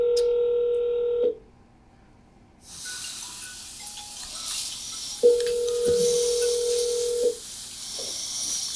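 Touch-tone telephone dialing an international number: a steady tone, then a run of keypad beeps, with quiet room noise between.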